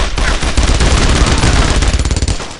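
Loud, rapid bursts of rifle and machine-gun fire crackle nonstop in a World War II shooter, Brothers in Arms: Road to Hill 30. The dense, close volleys overlap with no talking.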